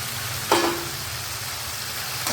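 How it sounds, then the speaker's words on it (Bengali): Fried cauliflower and potatoes drop into a pan of cooked-down masala for a Bengali duck-egg curry, setting off a sudden loud sizzle that settles into steady frying. "এর ভেতরে ভাজা ফুলকপি আর আলুগুলোকে দিয়ে দেবো"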